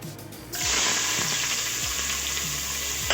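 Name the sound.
onions frying in hot oil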